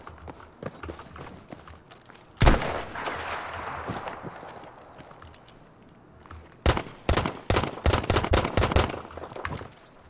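Gunfire in Battlefield Firestorm training mode: a single sharp shot, then a quiet stretch, then a rapid cluster of close, loud shots, with faint background ambience.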